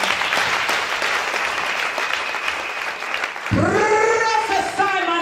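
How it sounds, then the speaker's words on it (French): A church congregation at a prophetic worship service claps in sustained, dense applause for several seconds, then a loud voice rises over the fading clapping. "Acclamez pour le Seigneur"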